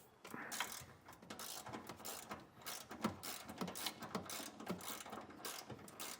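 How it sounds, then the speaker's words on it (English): A ratchet with a shallow 10mm socket on a 3-inch extension backs off a bump stop bolt on a 2025 Chevrolet. It makes rapid, steady clicking close by, continuous for the whole stretch with no voices. "we're going to take a shallow 10mm socket with a 3-inch extension and just get that up into the center of our bump stop and just start backing that off"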